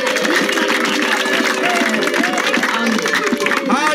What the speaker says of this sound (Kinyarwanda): dukomeye amashyi tukuvugirije impundu